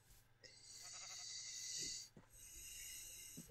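In the Minecraft game, a sheep lets out a couple of bleats, one long wavering call followed by a shorter one, fairly close and clear over faint background noise.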